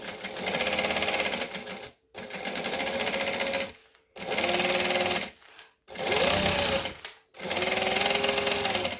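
Sewing machine running at speed and stitching fabric for a quilted carry bag, laid down in four steady runs of dense mechanical whirring, each ending in a short stop before the next pass starts.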